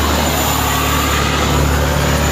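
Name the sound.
truck with Cat C15 diesel engine climbing a hill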